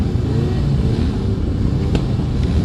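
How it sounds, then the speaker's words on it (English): Race car engines rev together on the starting grid at Killarney Raceway before a Power Series round, a loud, dense, sustained roar with a brief sharper burst near the end, no voices over it. "They pick the revs up"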